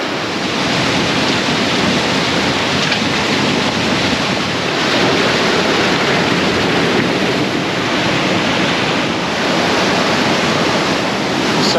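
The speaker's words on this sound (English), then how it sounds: "River's already rising a little bit." A rising river rushing through a gorge in the New Zealand hills, a loud, dense, unbroken roar of turbulent water with some wind buffeting on the microphone and no voices.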